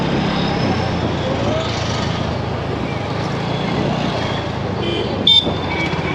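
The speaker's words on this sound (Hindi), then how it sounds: "यहाँ पे ना ट्रैफिक की तो ऐसी की तैसी हो रखी है भोपाल के अंदर।" Busy street traffic in Bhopal near a mobile phone market. Dense, loud engine rumble continues throughout, a short horn toot is heard near the end, and someone talks over the noise.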